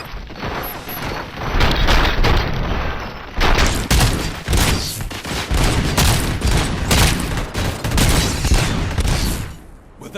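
Heavy gunfire from the PS5 shooter Robocop Rogue City during a fight to clear a police station: loud, sustained volleys of rapid shots and booming impacts, with brief pauses between bursts and no talk.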